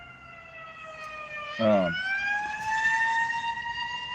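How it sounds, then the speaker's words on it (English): Emergency vehicle siren passing on a city street: a steady wailing tone that bends upward partway through, with a brief spoken word over it. "There's some sirens going on."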